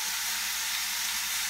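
Ground meat for a taco salad fries in a pan with a constant bright sizzle and crackle, close and steady, with no voices.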